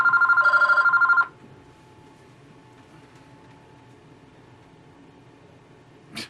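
A telephone rings from an unknown caller in a short, loud burst of rapid repeated trills lasting about a second, then cuts off to quiet room tone.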